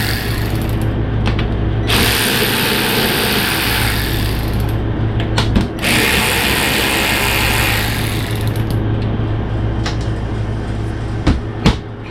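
Ratcheting on a 1977 Pontiac Trans Am during dash and tail light work, loud and close, with sustained rapid clicking bursts broken by brief pauses and a few sharper knocks, no voices.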